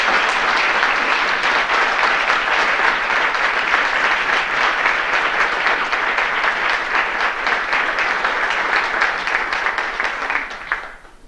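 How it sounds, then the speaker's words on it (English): A banquet audience at a senior sports banquet applauds a retiring man, dense sustained clapping that stays loud and even for about ten seconds before tapering off at the end. "please join me in a big round of applause for Mr. Bob Musso"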